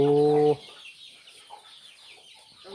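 A chicken gives one loud, close cluck at a crossbred cattle farm in Thailand. Quiet outdoor ambience follows, with faint sounds near the end.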